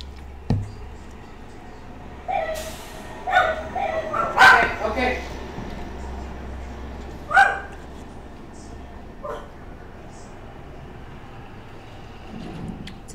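Several dogs react to a bird-sound doorbell with scattered barks and yips, close by, in short bursts with pauses between, over low background noise.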